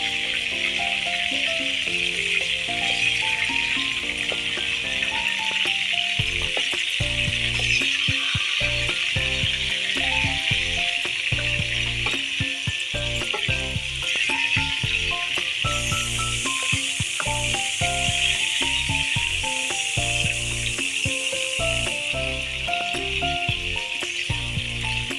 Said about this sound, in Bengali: আমি এপিট ওপিট করে চিংড়ি মাছটাকে ভেজে নেবো।